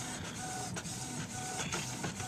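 A home printer runs steadily while printing photos, its feed and print-head mechanism whirring and shuffling at close range with brief louder passes, and no voices over it.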